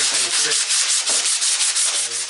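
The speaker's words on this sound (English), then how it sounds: "Then after we rasp it down quite a ways" A rasp scrapes down a wooden board being shaped into a fleshing beam, making steady, close, rhythmic rough strokes that run continuously with no talking.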